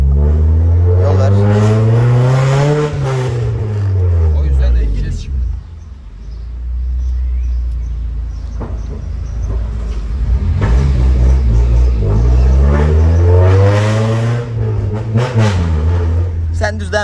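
A Honda car fitted with a Warex aftermarket exhaust revs hard while heading downhill, the loud, close engine note rising and falling twice, with a quieter, lower idle between the bursts.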